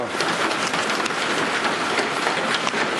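Steady, dense rain pours down outdoors, a continuous loud hiss with no pauses and no one speaking.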